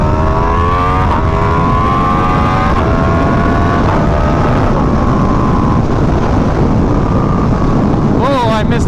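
Yamaha R1M sport motorcycle with its crossplane four-cylinder engine, heard while riding: a loud, steady engine drone with rising and falling pitch, heavy wind rush over the microphone, and a sharp rev swell near the end.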